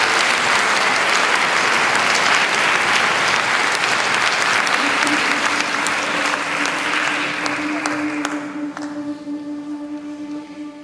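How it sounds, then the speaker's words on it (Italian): Applause from an audience after a choir performance in Siurgus Donigala, Sardinia, heavy and continuous clapping that thins out toward the end as a sustained tone emerges and lingers beneath the last scattered claps. "Applauso"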